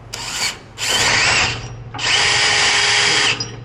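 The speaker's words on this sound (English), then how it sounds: "And I'm going to use a drill on mine." A cordless drill spins a 17 mm socket to remove bolts on a 2024 Toyota Tacoma in three close, loud whirring bursts, the last one longest and steady.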